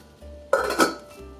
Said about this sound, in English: I cover the kettle with a lid